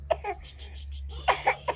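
A small child coughs several times in short bursts, close by, with brief pauses and soft vocal sounds between, over a low steady hum.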